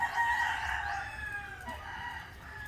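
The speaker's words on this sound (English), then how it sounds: "it's so noisy during this time with the rooster" A rooster crows on a farm field among turkeys and other fowl, one drawn-out crow, moderately distant and fairly quiet over low background noise.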